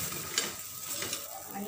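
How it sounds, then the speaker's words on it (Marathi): Dhapate flatbread roasting in oil on a pan, giving a brief close sizzle with faint scraping, steady and low in level, no voices. "आणि परत एकदा कडेनं तेल सोडायचं आणि छान असं हे करपूर भाजून घ्यायचं"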